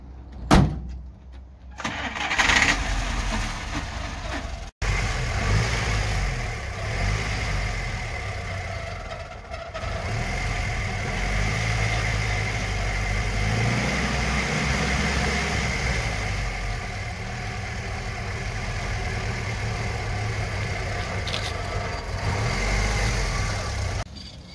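A Żuk A11 flatbed truck starts up and settles into idle: a short cranking burst with a door thump nearby, then a steady, fairly loud, low engine drone that holds to the end.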